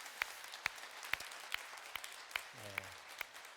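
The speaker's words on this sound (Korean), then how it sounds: "박수로 한번 격려해 주시기 바랍니다." A church congregation applauding to encourage the choir gives a sparse, evenly spaced run of about eight sharp claps, fairly faint, with a brief low tone partway through.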